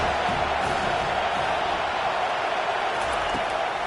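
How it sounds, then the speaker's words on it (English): A stadium crowd in College Football 25 cheers loudly on third down. The roar holds steady and fills the whole stretch without a break, with a few faint whoops rising above it. "Decibels rising as the crowd gets behind this defense on 3rd down."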